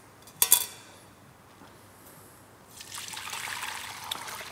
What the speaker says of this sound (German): Jetzt gieße ich es einmal hier durch das Sieb.